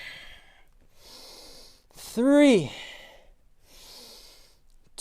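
A yoga instructor leading a live class takes an audible breath in during a squat, a single swelling inhale between spoken counts with the voice around it.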